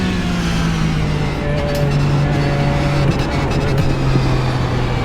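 Racing car engine in the iRacing sim played through PSVR, a loud steady engine drone holding a sustained tone with slight pitch shifts, continuous and close.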